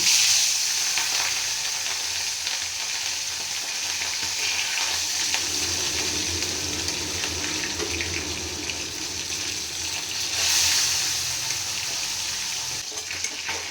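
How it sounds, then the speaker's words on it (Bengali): Bata fish frying in hot oil for a Bengali tel jhal, a continuous loud crackling sizzle close by that swells near the end, with no talking. "এই যে বাটা মাছগুলোকে আমি আগে ভেজে নেব।"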